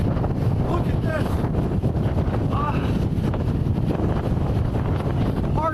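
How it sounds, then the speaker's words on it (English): Hurricane Ian's gusts roar through Fort Myers at landfall, a loud continuous buffeting wind battering the microphone with no letup, with faint squeaks and rattles in the storm. "this storm just continues to wreak havoc here with these"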